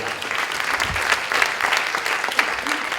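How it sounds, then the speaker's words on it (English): An audience at a real estate panel discussion breaks into steady applause, dense and sustained clapping filling the room for a few seconds, with a voice faintly mixed in. "let's give it a round of applause for that one"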